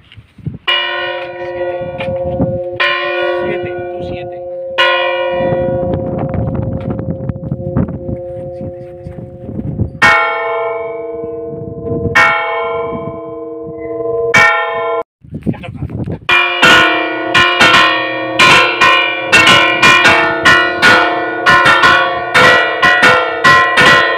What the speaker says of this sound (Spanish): vamos a escuchar cómo sonaría el toque de las 7 menos cuarto